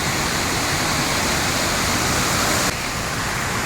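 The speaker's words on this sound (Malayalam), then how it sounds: "അപ്പൊ നമ്മൾ വെള്ളച്ചാട്ടത്തിന്റെ ഏകദേശം അടുത്തെത്തി ആ വെള്ളത്തിന്റെ സൗണ്ടും" Atla Waterfalls in Kerala roars close by in a loud, unbroken wash of falling water. It holds steady throughout and eases only slightly near the end.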